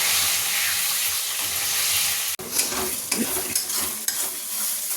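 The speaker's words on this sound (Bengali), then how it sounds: "প্রথমে কড়াই চিকেনটা ভেজে নিচ্ছি, নুন হলুদ বাকি, যার কোনো মশলা দিইনি" Chicken seasoned with salt and turmeric fries in a wok with a loud, dense sizzle; a sharp knock partway through gives way to stirring scrapes and spatters over the continuing hiss.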